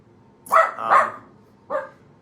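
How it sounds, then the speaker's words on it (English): A dog barks at a window indoors: two quick, loud, close barks followed by a brief pause and a single third bark, with no talking. "Doing it live, get a dog barking in the window."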